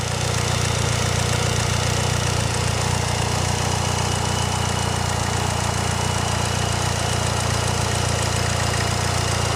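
A boosted Mitsubishi Eclipse with a 2.3 stroker engine idles smoothly and steadily, a close, even low rumble with a constant mechanical hum and no voices throughout.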